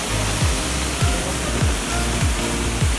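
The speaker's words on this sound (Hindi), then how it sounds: "ये है वो जगह जहाँ से पानी गिरते हुए एक बोतल का आकार ले लेता है।" Water falling steadily at Botal Dhara waterfall in Mainpur, where the stream drops into a bottle-like shape, a continuous broadband rushing roar with low thumps recurring about every 0.6 seconds.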